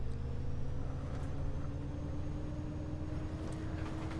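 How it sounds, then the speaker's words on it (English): Low steady drone of an ALX 400 bus engine in OMSI 2, idling or cruising with a constant hum and faint tonal whine, continuous and unbroken with no speech. "I do like the sounds of the bus."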